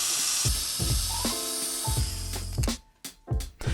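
A drill bores small 3mm holes into a metal tin lid on a workbench, with repeated short whirring bursts and grinding contact noises, close and fairly loud, separated by brief pauses.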